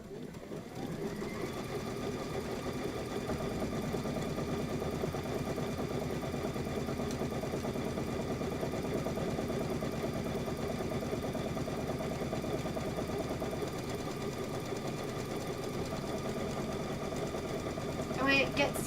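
A sewing machine runs steadily for about seventeen seconds, stitching a quilt border, a close continuous whirring hum with a brief stop and restart near the end.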